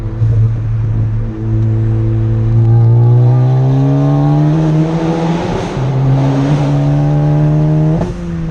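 A turbocharged car engine fitted with a throttle body spacer runs and revs, its loud steady drone rising in pitch twice with a brief dip between, close and alone without talk.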